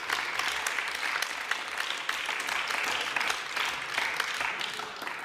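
Audience applause during a plenary parliament session, dense continuous clapping from many hands throughout, fairly close and lively with no speech over it.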